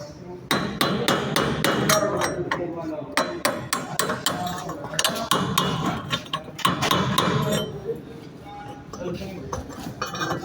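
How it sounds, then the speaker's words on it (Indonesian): A hammer strikes a flat chisel to level a freshly welded metal piece, producing many sharp, loud metallic blows in bursts, close up, with pauses between series and a little background noise. "di sini saya menjelaskan tentang flat chisel. Berfungsi untuk meratakan suatu barang yang habis dilas"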